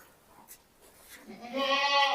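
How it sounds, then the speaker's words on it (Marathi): Goats and bucks offered for sale before Bakri Eid, a mixed Shiroi-Sojat and Beetal lot, give a loud, drawn-out bleat that rises near the end of a short, otherwise quiet stretch, with a faint earlier cry. "बिटलचे काही बोकडे आणि शेळ्या आहेत आपल्याकडे मित्रांनो"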